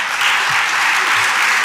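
Audience applause at a closing ceremony honoring a doctor, a loud, dense and even wash of clapping from a crowd, sustained without break.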